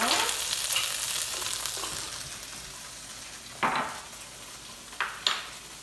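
Pasta sauce for rasta pasta sizzling steadily in a pan, a continuous soft hiss with a few brief clinks of a utensil against the pan near the end.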